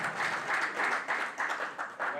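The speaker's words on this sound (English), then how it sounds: "Clap louder, clap louder." Audience at a book launch dinner clapping for a couple's 12th wedding anniversary, a steady moderate patter of many hands with slight swells, heard alone without talk.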